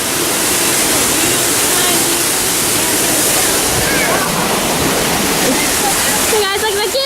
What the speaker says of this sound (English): We just walked under the waterfall to the cave.